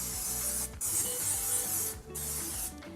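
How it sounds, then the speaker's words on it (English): Cooking spray hisses from an aerosol can onto cake pans for a chocolate cake, in three bursts with short pauses between them, close and steady. "I just spray them generously with some cooking spray"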